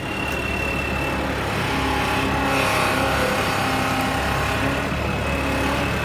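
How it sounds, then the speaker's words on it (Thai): A truck's JO8C turbo diesel engine revs in a loud, continuous roar that builds and holds near the listener, with no speech over it. "เครื่องยนต์ก็เป็น JO 8C ครับเทอร์โบกู้"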